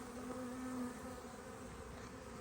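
Honey bees buzzing around a beehive trap on a mild 17 degree day, a close steady droning hum with a brief higher whine from one passing bee, no talking.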